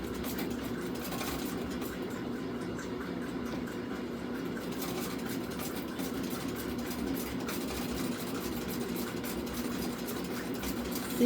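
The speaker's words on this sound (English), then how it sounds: "it's her feet down here that's making the machine go" A foot-driven treadle sewing machine running steadily, its soft mechanical whir and rhythmic clatter continuous and close, with no talking.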